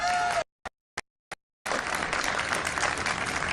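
An audience at the unveiling of the Times Square New Year's Eve ball breaks into sustained applause after a few isolated claps, the clapping dense and steady.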